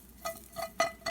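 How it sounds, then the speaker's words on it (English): Chicken with mushrooms sizzles in a hot pan in short, crackling bursts, as if being stirred, fairly close and quiet. "This is sizzling."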